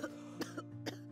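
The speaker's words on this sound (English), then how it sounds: "He let out a cloud of smoke in my face, which instantly made me cough." Three short, close coughs in quick succession, a character choking on a puff of smoke in the visual novel game Tiny Bunny, over a low steady hum.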